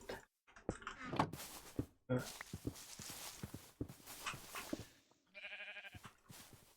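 A brief goat bleat with a harmonic buzz comes near the end of a clip from the video game Fear Nightfall: Remains of Chaos, after stretches of clattering footsteps and rustling game sounds.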